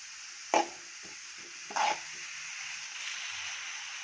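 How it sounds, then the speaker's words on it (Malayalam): A utensil stirs chopped onion and leaves in a pan, making two distinct scraping clacks about a second apart over a faint background hiss, followed by quieter movement. "ഉള്ളിയും ഇലയും കൂടി ജസ്റ്റ് ഒന്ന് ഇളക്കി കൊടുക്കുവാണ്"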